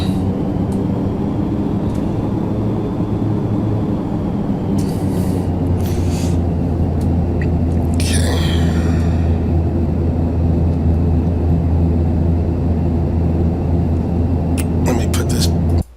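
Turboprop engines of a Carenado ATR 72-500 in the P3D flight simulator at a steady, loud drone with a strong low hum, holding level throughout with a few brief clicks and swishes of cockpit sounds.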